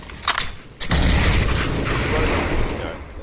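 Grenade explosion in a Counter-Strike match on Inferno, a few sharp gunshot cracks followed by a loud, rumbling blast that lingers and slowly fades.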